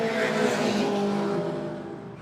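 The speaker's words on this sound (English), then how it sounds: "Gary Beggs in the V8 Holden will beat the Mitsubishi Turbo of Greg Symes home for third place" A V8 Holden and a Mitsubishi Turbo race car roar down the straight on a racing circuit, engines loud and close at first, then fading as they pull away.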